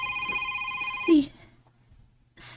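A telephone rings with an incoming call indoors, a steady electronic ring running for about a second before cutting off, followed by quiet and a short burst of sound near the end.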